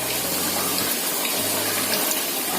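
Water pours steadily into a teflon pan for cooking tempeh, a continuous close splashing gush with no talk over it.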